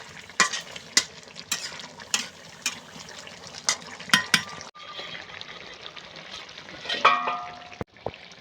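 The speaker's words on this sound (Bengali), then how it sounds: "এই যে শুকনো খোলায় জিরিয়া ভাজিলাম" Cumin seeds dry-roasting in a dry pan while a snakehead and catfish curry with bottle gourd is being made, with sharp scraping stirs and light crackling sizzle repeating throughout, close and clear with no talking.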